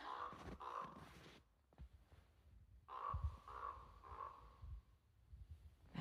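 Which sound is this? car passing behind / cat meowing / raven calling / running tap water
raven calling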